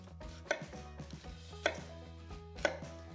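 A knife chops through a peeled, halved onion on a cutting board, three crisp separate cuts about a second apart, close and clear with no talking.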